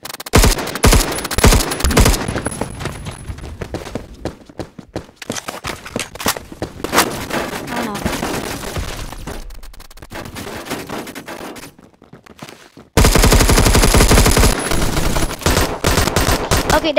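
Colt LMG machine gun in the shooter game Phantom Forces, firing in dense sustained bursts with short pauses, then a loud, continuous roar of fire near the end.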